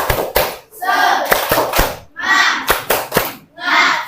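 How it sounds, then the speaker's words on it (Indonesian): Schoolchildren in a classroom performing a rhythmic clap chant, sharp synchronized claps in a patterned beat alternating with loud group shouts of the chant. "kita tepuk semangat dulu"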